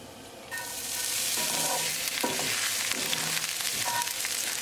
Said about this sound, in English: Now I'm going to add some more olive oil. Now we're going to add green chili.